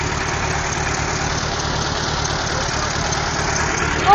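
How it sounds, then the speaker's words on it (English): A tractor engine idles with a steady, low rumble continuously at close range, with no other sounds. "it's a tractor"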